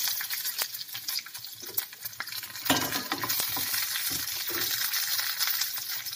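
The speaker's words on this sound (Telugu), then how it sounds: "పల్లీలు కూడాను వేగిపోయి మనం ఇంకా కరివేపాకు వేసుకున్నాం అలాగే పచ్చిమిర్చి" Peanuts, curry leaves and green chillies frying in hot oil, with a continuous bright sizzle and crackle close by, punctuated by clinks and scrapes of a utensil stirring the pan.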